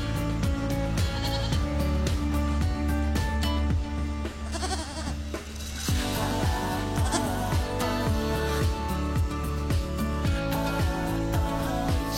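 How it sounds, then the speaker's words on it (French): Goats in Norway bleat again and again, loud and close, their calls overlapping in a busy chorus with no talking. "Puis je préfère regarder les petites chèvres, moi."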